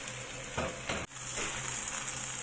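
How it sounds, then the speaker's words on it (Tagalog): Pork adobo ingredients frying in a pan, a bright steady sizzle with a couple of short bursts of stirring noise and a brief dip midway. "I-fry lang natin yan hanggang sa maging brown yung ating ingredients"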